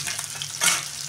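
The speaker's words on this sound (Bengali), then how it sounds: "আমি আস্তে আস্তে ভাজবো, তাহলে সেদ্ধ হবে ভালো ভালো করে ভেজে নেবো" Chopped taro stems (gati kochu) sizzle gently in a pan, a short steady frying hiss with a slight swell near the end.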